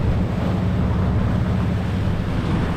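A boat's hull and outrigger floats smash through open ocean waves, giving a steady, loud rush of spray and churning water with heavy wind buffeting, and no voices.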